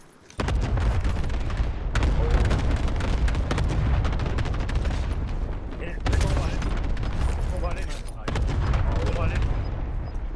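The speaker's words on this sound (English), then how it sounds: "Sure, Lulu, call an airstrike." Airstrike explosions in the video game Call of Duty: Modern Warfare come as a long, dense barrage of heavy booms and crackling blasts that continue almost without a break, loud and close throughout.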